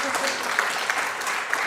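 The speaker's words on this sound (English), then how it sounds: "So, an applause to Ieva" Audience applause at a morning conference session on culture, a steady broadband patter of many hands clapping from start to finish, moderately loud with no voices on top.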